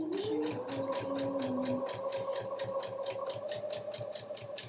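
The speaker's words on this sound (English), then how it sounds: "it's actually quite a pleasure to be stitching with such lovely quality cotton" A sewing machine stitches cotton trouser fabric in a steady, rapid mechanical rhythm under a continuous motor whine, running evenly at moderate loudness throughout.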